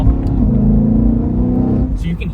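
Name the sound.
BMW E92 M3 GTS intake snorting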